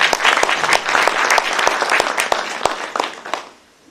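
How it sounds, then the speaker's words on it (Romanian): Audience applause at a book launch fills the room with dense, steady clapping for about three and a half seconds, close and loud, then quickly fades out. "vă rog aplauze"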